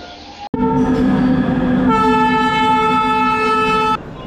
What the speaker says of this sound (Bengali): বন্দে ভারত এক্সপ্রেস নিজের স্কেডিউল টাইমে প্ল্যাটফর্ম 1 ধানবাদে আসছে।